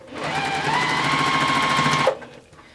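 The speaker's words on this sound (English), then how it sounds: "we're going to the sewing machine and we're going to sew all these four pieces together" A sewing machine stitches steadily at a fast, even rhythm for about two seconds, then stops abruptly.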